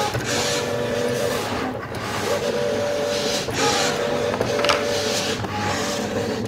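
A Cricut Maker 3 cutting machine whirs as it cuts material, its carriage motor running in repeated back-and-forth passes with a rhythmic mechanical hum and faint clicks.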